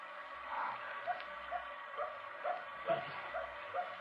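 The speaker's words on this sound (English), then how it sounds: "There's that dog again." A dog barking in an old radio suspense drama set on a country road at night, with repeated short distant yaps at a steady pace over a faint background hum.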